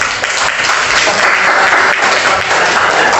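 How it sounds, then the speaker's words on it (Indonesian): Loud, dense audience clapping for a student group in a classroom teaching session, continuous and close for the whole stretch. "terima kasih tepuk tangan untuk kelompok"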